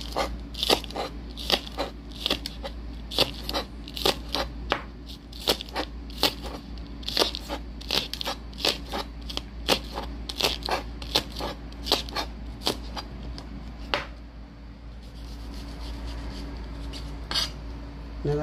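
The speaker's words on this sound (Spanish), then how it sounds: "Vamos a picar lo que es la cebolla" Onion being chopped on a board for taco salsa: a steady run of sharp, crisp knife crunches, close and fairly regular, thinning out near the end.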